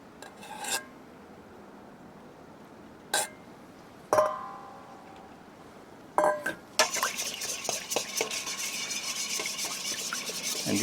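Milk and five eggs being whisked in a bowl for French toast casserole: a few isolated clinks and scrapes of utensil on the bowl at first, then continuous rapid rhythmic beating for the last four seconds.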